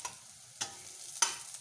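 Tempering spices sizzle in hot oil with bitter gourd, a soft steady frying hiss punctuated by three sharp stirring scrapes at even intervals, close and quiet.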